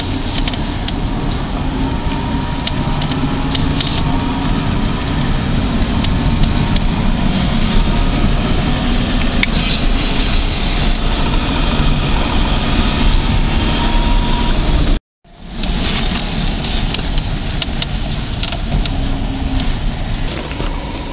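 A Porsche 924 converted to electric drive is on the move, with a continuous loud whine and road noise building as it rolls. There is a short dropout partway through and no voices.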